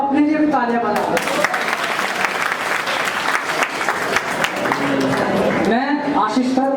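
A crowd of students at an academy event in Vikasnagar breaks into loud, sustained clapping that swells between bursts of amplified voice at the start and end.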